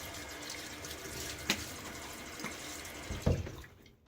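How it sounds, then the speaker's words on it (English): Running water at a sink with a few scattered splashes and drips, one louder splash near the end before it quiets. "And I'll splash a little water on my face."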